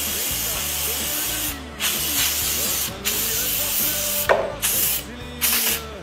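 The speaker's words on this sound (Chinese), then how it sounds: "我们也是使用了安索的有机塑料防老化的一个镀膜喷雾" An organic anti-aging coating spray hisses in several bursts onto weathered, whitened plastic trim of a Husqvarna FS450 motorcycle, steady spraying broken by short pauses, with a low mechanical hum underneath.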